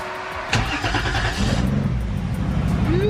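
A car fitted with a 2JZ engine and Speeduino ECU cranks briefly, fires loudly and settles into a rough, steady idle nearby, with no one talking.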